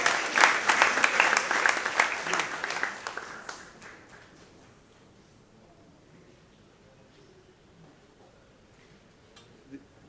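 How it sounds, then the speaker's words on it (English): Audience applause at a school launch event, strong clapping for the first three seconds or so, then fading quickly into quiet room noise with a faint click near the end. "let's give a big round of applause to Professor Proko"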